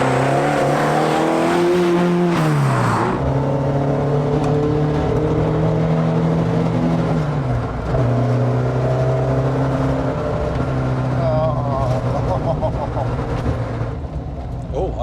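A Talbot Sunbeam Lotus engine drones loudly from inside the cabin while cruising, a steady monotonous note with a couple of audible gear-change dips, and people talk over it throughout.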